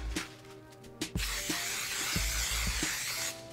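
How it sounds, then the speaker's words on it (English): Baker's Joy cooking spray hisses onto a baking pan in a home kitchen, a short burst followed by a longer sustained spray lasting about two seconds, close and moderately loud amid a few light taps. "I'm just gonna take some Baker's Joy spray, spray my pan."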